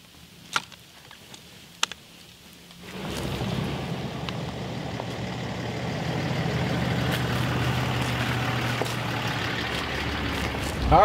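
A truck rolling on Hercules tires over rough country. After a few seconds of near-quiet with scattered clicks, a steady, dense rumble of engine and road noise sets in and continues to the end.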